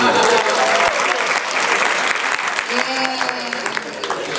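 Comedy club audience at a live Detroit stand-up show breaks into loud, dense applause that slowly eases off over a few seconds, with a voice briefly audible underneath.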